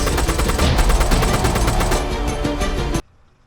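Rapid, dense gunfire from an AK-12 battle in the video game ArmA 3. Loud overlapping shots sound close by in continuous bursts for about three seconds, then cut off abruptly to near silence.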